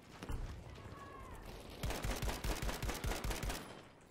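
Automatic gunfire from the SML gun in Battlefield V: a few scattered early shots, then a sustained, evenly paced burst of close, loud rounds lasting nearly two seconds.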